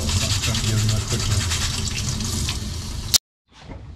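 Water pours and splashes steadily while dirt and sand are rinsed off, a close, continuous hissing wash that ends with a sharp knock and then sudden silence.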